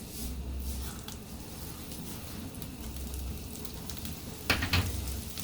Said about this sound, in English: I'm going to start toasting the rice.